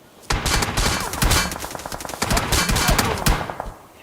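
Sustained automatic gunfire from the PUBG Mobile video game, loud and near, rapid bursts of shots running almost continuously before tapering off at the end.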